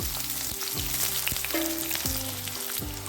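Chopped onion frying with cloves, cardamom, cinnamon and peppercorns in hot oil, a steady close sizzle with a few soft stirring scrapes, no talking.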